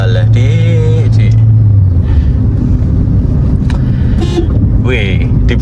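A car horn toots briefly on a road near a beach, cutting in over a steady engine rumble while people talk loudly throughout.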